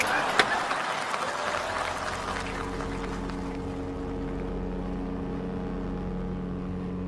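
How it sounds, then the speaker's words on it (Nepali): A ship engine sound effect plays during a comedy stage skit: a sharp clatter, then a steady low rumbling drone with a constant tonal hum, loud and continuous. "इन्जिनबाट त पानी जहाजको आवाज आयो"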